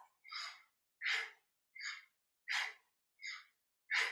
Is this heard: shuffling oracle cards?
no